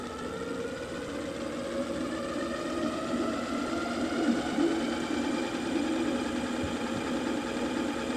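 SEEMOON SM3 dual-motor electric mountain bike motor whining steadily and rising slowly in pitch as power ramps up, a continuous mid-level hum with no talking.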